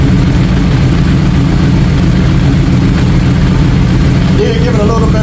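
A rebuilt 2017 Yamaha R1 motorcycle engine idling just after its first start following a wreck, a loud, steady, rumbling idle running close and continuous throughout.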